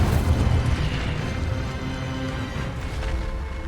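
Incendio fire spell cast in Hogwarts Legacy, a close, loud whooshing burst of flame that surges at the start, then settles into a sustained roaring rumble lasting a few seconds.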